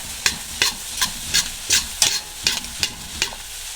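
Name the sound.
stirring and frying chow mein in a pan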